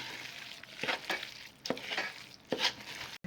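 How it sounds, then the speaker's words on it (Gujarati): Gond pak mixture being stirred in a pan off the heat gives a few rhythmic scraping strokes, spaced about a second apart, close by and moderately loud, with a final sharp clack. "આ રીતે નીચે ઉતારીને બધી વસ્તુઓ નાખીને હલાવતા જવું અને મિક્સ કરતા જવું"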